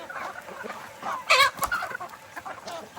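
Chickens cluck in a loose, busy cluster at close range while being fed on a farm, with one louder burst of squawking in the middle above steady lower clucking.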